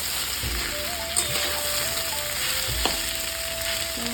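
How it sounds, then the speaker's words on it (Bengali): Ridge gourd (chichinga) fries in hot oil with a loud, steady crackling sizzle up close, with a few soft knocks, a low background hum and no talking. "লাল লাল করে ভাজা হয়ে গেছে"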